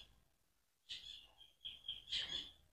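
Faint, high bird chirps come in short bursts against a quiet background in a backyard, a few calls close together with brief pauses.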